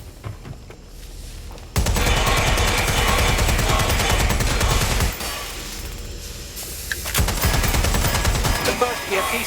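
Rapid gunfire in the video game Watch Dogs: Legion: dense machine-gun bursts and booms start abruptly, hold loud for several seconds, ease, then return with sharp shots under intermittent game voices.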